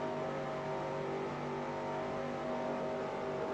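A race car engine drones steadily, sounding muffled and bogged down, a constant mid-distance hum with no clear revving or passes.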